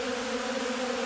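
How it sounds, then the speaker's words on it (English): Honey bees crowd an open feeder of pollen substitute in late morning, making a steady, dense buzzing drone close to the listener with no other sounds. "bees are coated in the substitute, and they just ball it up on their pollen baskets like they were collecting from a flower"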